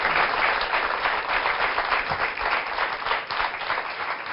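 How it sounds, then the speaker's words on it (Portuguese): A studio audience claps for a guest in a dense, continuous burst of applause that holds steady at full strength throughout. "Uma salva de palmas para a nossa convidada"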